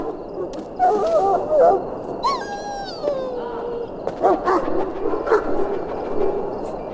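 A sick dog in the Dragon Age: Origins video game barks in short yips and whimpers, with a high whine and fluttering cries over steady background ambience.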